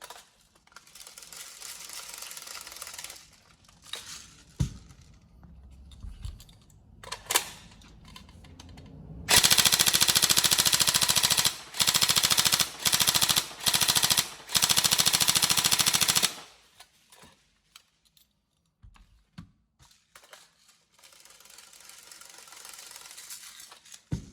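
An upgraded Tokyo Marui 416 Delta NGRS airsoft electric gun fires loud, rapid full-auto bursts separated by short gaps, after quieter clicks and handling noises that come before and after the shooting.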